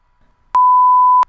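A censor bleep sounds alone: a single steady pure tone lasting under a second, loud and abrupt, starting and stopping sharply against near silence.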